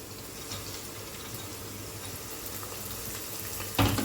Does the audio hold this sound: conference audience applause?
no